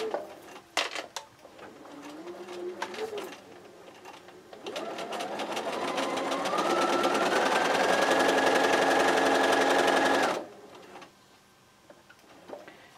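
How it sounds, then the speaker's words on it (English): A sewing machine stitches a quarter-inch quilt seam in a steady, continuous whir for several seconds, preceded by a few short clicks and bursts, then stops abruptly. "I'm going to sew a quarter inch seam. So I'm just going to place this here on my sewing machine."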